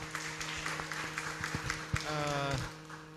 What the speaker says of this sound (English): Give applause to the team first.